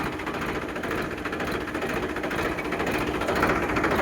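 A Mahindra 395 tractor engine idles steadily with a continuous even mechanical chatter and hum, no talking over it.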